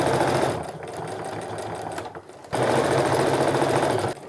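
Sewing machine stitching a fabric tote bag, a close, steady mechanical whirr that pauses briefly midway and then resumes at full speed.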